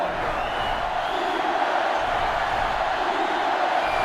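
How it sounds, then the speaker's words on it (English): A stadium crowd roars in the NCAA Football 2005 video game, a dense, steady wash of cheering that holds at an even level throughout, with no distinct individual voices standing out. "And this crowd is going absolutely crazy."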